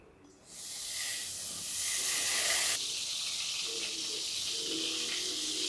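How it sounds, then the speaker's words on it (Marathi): Butter and a little oil sizzling in a kadhai on a gas flame, a steady bright hiss that rises after a quiet start and holds fairly loud, close and alone with no talking. "याच्यामध्ये मी टाकलेला आहे बटर आणि 2 उबळी तेल पण टाकलेलं आहे।"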